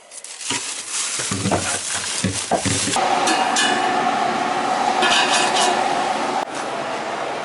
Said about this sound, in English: I got this big wooden spoon here where I can stir it